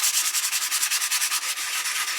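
Wet sandpaper rubbing back and forth over Suzuki Bandit 1200 motorcycle rearsets, a quick regular hiss-like scrubbing rhythm of about eight strokes per second, close and steady.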